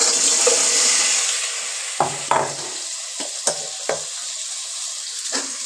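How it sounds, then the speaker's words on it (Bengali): Boiled amla fries in hot oil with dried red chilli, a steady bright sizzle broken by several sharp scrapes and knocks of a spoon stirring in the pan; no talking. "আমলকি সেদ্ধটাকে দিয়ে দিলাম তেলের ওপর এবার খানিকটা সময় নেড়ে নেব আমলকিটাকে"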